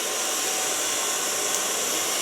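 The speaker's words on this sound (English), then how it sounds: "Put my Kiona hair blower on volume." A Kiona hair blower set to its volume setting runs with a steady, loud, unbroken airy roar throughout, close by and with no voices.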